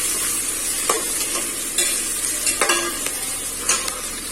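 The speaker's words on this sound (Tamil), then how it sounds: "இதை நல்லா வதக்கி விட்டுக்கலாம்." Chopped onions and four slit green chillies are sautéed for country chicken biryani, with a steady oil sizzle and repeated spatula scrapes against the pan coming through clearly, close by.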